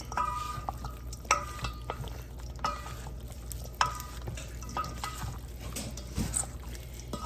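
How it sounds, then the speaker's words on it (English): Quinoa salad being tossed together in a bowl, with a steady soft rustling and mixing under a few sharper periodic knocks, close and fairly quiet, no talk. "The quinoa has cooled down, and so I added it on top of this salad, and now I'm just gonna toss it all together."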